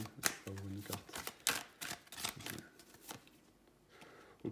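Tarot cards are shuffled in quick, crisp riffling bursts and then pulled for a draw, close and fairly soft, with someone speaking through parts of it.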